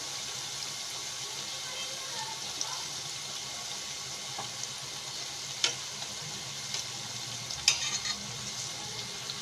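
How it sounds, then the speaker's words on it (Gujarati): Thin, flaky farsi puri made from maida fry in hot oil until reddish-brown, giving a soft, steady bubbling sizzle with a few scattered sharp pops. "એકદમ લાલ થાય એવી તળવાની છે"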